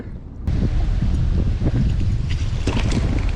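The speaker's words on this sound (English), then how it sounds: "that wind is killer, dude" Strong wind roaring across the microphone while fishing from a boat, a steady loud broadband rush that surges in after a brief quieter moment and keeps buffeting without pause.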